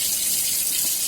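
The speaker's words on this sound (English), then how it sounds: "I get cold water running on the tap" Cold water runs from a kitchen tap in a steady, continuous broadband gush, close and fairly loud, with no talking over it.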